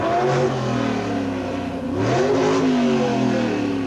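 Near-stock drag racing cars in a match race at Boundary Bay Raceway rev their engines at the starting line, the pitch rising and falling in loud surges across a few seconds, without talking.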